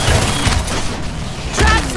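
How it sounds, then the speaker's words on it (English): Chain gun fire from the hunter weapon in Evolve, loud rapid bursts with a rattling mechanical edge, swelling at the start and again near the end. "I'm using the chain gun at this point."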